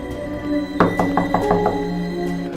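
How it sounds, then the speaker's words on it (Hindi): A run of six quick knocks on a door, close and even, over a soft tonal background hum. "दरवाजे पर अचानक दस्तक हुई"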